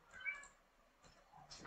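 A cat meows softly indoors, a few short quiet calls spread across a brief span, near and faint against a silent background, with no speech.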